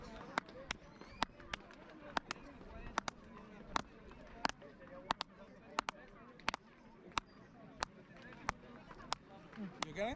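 Hand claps echoing off the Chichen Itza pyramid in Mexico, a steady run of sharp claps about every half second, each followed by a chirping, bird-like ringing echo, over crowd murmur and talk.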